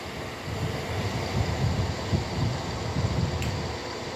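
A train at Nuneaton station gives off a steady, low rumbling roar that holds evenly for a few seconds, with faint airy wind noise over the top and no voices.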